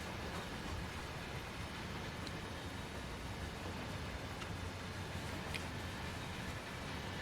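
Santa Fe freight train with well wagons and trailer-carrying flatcars in a train simulator game on Cajon Pass, giving a steady, even rolling rumble and hiss throughout with no voices.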